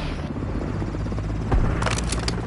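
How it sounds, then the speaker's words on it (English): A chopper gunner helicopter killstreak in Modern Warfare 3: steady whirring rotor and engine noise under game sounds, with a sharp crack and a burst of gunfire near the end. "Oh, chopper gunner."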